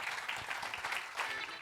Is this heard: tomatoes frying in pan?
no